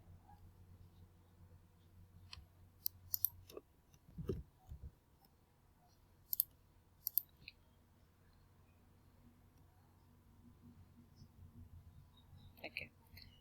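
A computer mouse clicks while a job application form is filled in online, producing a few quiet, sparse clicks spread apart over soft background hiss.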